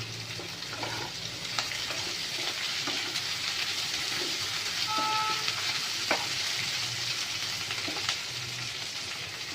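Green chilies sizzle in a pan with chopped taro stems (kochur doga) in a Bengali-style home dish. A close, steady frying hiss runs throughout, broken by occasional soft stirring scrapes and clicks.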